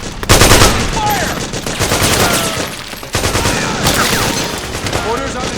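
Rapid automatic gunfire and explosions in the video game Metal Gear Solid 4, dense bursts of shots crackling continuously with a brief gap midway, loud and close, with some voices mixed in.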